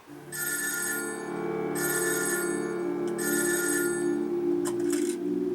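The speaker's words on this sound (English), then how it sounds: "But the phone starts ringing" A telephone bell rings in three long, loud bursts with short gaps between, clear and close over a steady background.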